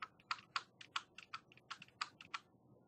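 Rapid, uneven clicks of keys on a computer keyboard, about a dozen crisp taps at close range with short pauses between bursts, over a quiet background with no voices.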